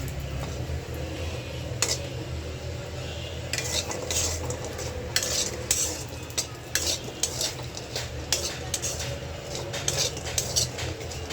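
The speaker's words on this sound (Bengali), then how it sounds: "লাল লাল করে ডালের বড়িগুলো ভাজা নিই।" Dried lentil dumplings (dal badi) fry in a pan, with a soft sizzle beneath repeated metal clinks and scrapes of stirring, plus a faint fan hum in the background.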